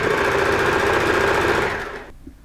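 Sewing machine stitching fabric for an easy kimono robe, a fast steady mechanical whirr with rapid needle chatter that runs loud and close, then winds down and stops near the end.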